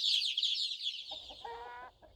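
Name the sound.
free-range organic poultry clucking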